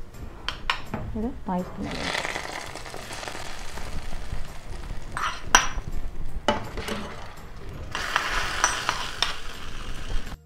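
Cashews drop into ghee in a pan for payasam, giving a light sizzle with scattered clinks and taps of a utensil against the pan, while a person talks briefly.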